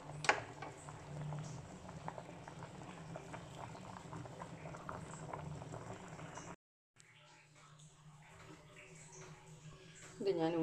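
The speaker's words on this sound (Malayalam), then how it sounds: "നമുക്കിത് ഊറ്റിയെടുക്കാം" Boiled tapioca is drained of its cooking water, giving a continuous bubbling, splashing rush up close that cuts off briefly and then resumes more sparsely, with a faint voice in the background.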